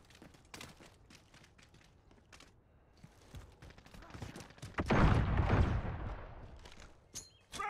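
Gunfire in Call of Duty: Modern Warfare, a military shooter, with scattered sharp shots early on building to a loud, dense burst of automatic fire and blasts in the second half, with some voices in the background.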